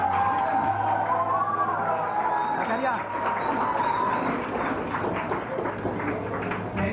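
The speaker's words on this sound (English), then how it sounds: "give a huge round of applause for all of us, sir" Audience applause at a college fresher's meet, a steady wash of clapping from a crowd with a voice talking over it throughout, moderately loud and sustained.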